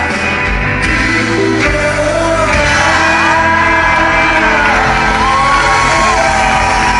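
Loud, drawn-out screams and yells ring out over a noisy, crowded background, rising and wavering in pitch.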